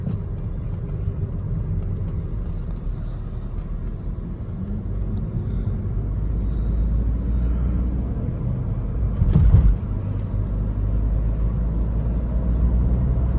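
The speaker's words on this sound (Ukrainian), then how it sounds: "Турбінка дує." Interior of a 2016 Peugeot 508 GT with a 2.0 HDI diesel turbo and automatic gearbox while driving, a steady low engine and road rumble with a faint turbo whoosh and a brief louder swell midway.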